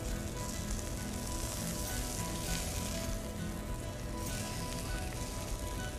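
Lionfish browning in a frying pan at a restaurant kitchen, giving a steady, dense sizzle that holds at an even level throughout with no talking over it.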